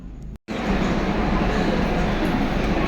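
Inside a moving metro train in Kochi: a dense, steady roar of wheels and motion fills the cabin after a brief moment of silence at the start, with no talk.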